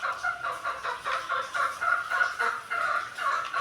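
A broody hen that lays her eggs in a basket clucks continuously and fairly faintly, giving a nervous run of repeated low calls.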